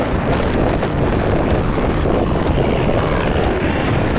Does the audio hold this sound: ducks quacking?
no